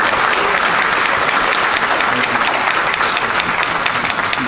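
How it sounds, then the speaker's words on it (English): An audience at a Rotary club recognition event claps loudly and steadily, a dense wall of applause that carries on without pause. "Let's give him a round of applause."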